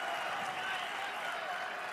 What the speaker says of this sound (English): Crowd appreciates the scramble on the edge.